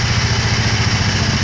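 A hot rod engine idles with a loud, steady, lumpy low rumble and rhythmic clatter, close by and without talking.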